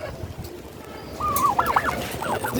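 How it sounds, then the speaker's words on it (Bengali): Turkeys gobbling outdoors among local chickens, a few short warbling gobbles at moderate distance rising over a low background murmur of fowl. "টার্কি এবং দেশি মুরগিগুলো বাইরে বের হয়েছে"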